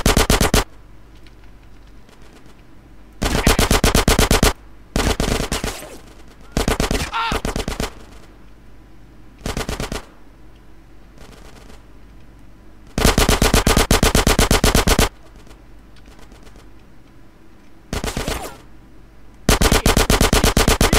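Machine gun fire in GTA San Andreas comes in loud bursts, some brief and some sustained for a couple of seconds, separated by short quiet gaps with faint background game sound.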